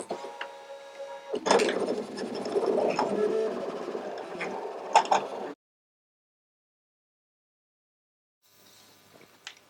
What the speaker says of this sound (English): Now mine was all good, so I'm going to hit go. The machine's going to cut away.